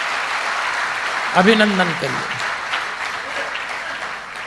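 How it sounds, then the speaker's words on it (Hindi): Audience applause for the members of a youth association at a spiritual discourse event in India. It begins as a broad wash of clapping under a man's spoken request and stays steady and moderately loud to the end. "एक बार जोरदार तालियों से उसके हर सदस्य का"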